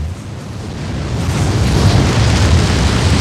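A video game explosion from a PlayStation 2 demo, a loud sustained rumbling boom that swells and rolls on without fading, heard alone.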